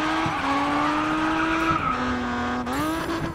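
A Nissan R34 held in third gear in GRID Autosport, a steady, loud engine drone with a slowly climbing pitch, a brief dip and another jump, and tire squeal mixed in.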